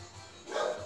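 A small dog barks nervously, a single short yip-like burst rising out of quiet background noise, heard alone with no talking.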